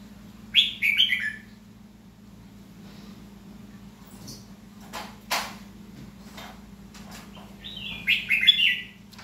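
A red-whiskered bulbul sings in two bright, warbling bursts, one near the start and one near the end, with quiet background hum and a few faint clicks between.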